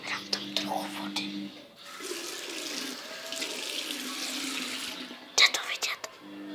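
Water poured into a car's engine oil filler after a botched oil top-up, a hissing, splashing stream running for several seconds between clicks and handling noises, with people talking quietly around it.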